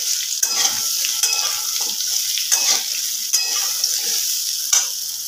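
Pumpkin and potato chunks frying in a pan for kumror chhakka, a loud, bright sizzle with rhythmic scraping strokes as the pieces are stirred, close and without talk.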